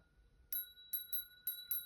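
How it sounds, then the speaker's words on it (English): A bell rung to open a tarot reading gives four or five clear, bright metallic strikes in an even rhythm. Each strike has a long ringing tone, and the strikes sound close and alone over a quiet background. "I'm going to ring the bell."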